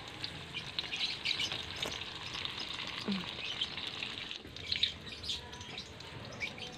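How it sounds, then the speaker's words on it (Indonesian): Indomie spring rolls frying in hot oil over a low flame, a steady close crackling sizzle with scattered pops and spatters throughout, no voices. "siapkan minyak yang sudah dipanaskan, lalu masukkan satu persatu dengan api yang kecil ya"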